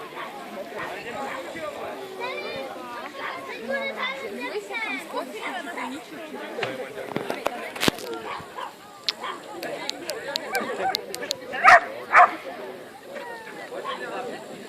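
A dog yips and barks during a dog dance tricks demonstration while someone talks almost throughout, with short sharp barks clustering toward the end.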